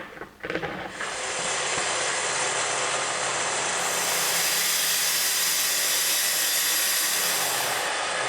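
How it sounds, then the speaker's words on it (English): A track saw rips along the edges of curly cherry veneer sandwiched between Baltic birch plywood, with a loud sustained cutting roar that spins up and holds steady throughout. "use my track saw to joint the edges"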